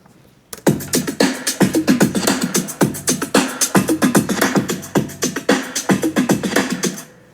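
A layered drum loop built in FL Studio with stacked top kicks starts abruptly and runs as a dense, driving pattern of sharp repeated hits at a steady tempo, loud and close with no voice over it.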